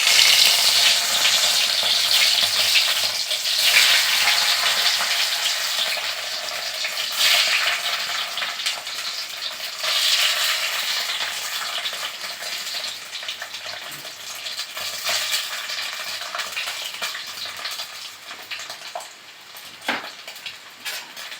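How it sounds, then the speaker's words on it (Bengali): Paneer cubes frying in hot oil in a pan, a loud continuous sizzle and hiss that slowly settles over about twenty seconds, close with occasional spatter pops. "আমি পনিরগুলো ভেজে নেব"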